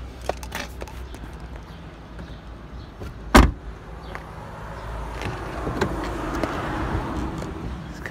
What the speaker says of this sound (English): We have your electric windows, all four.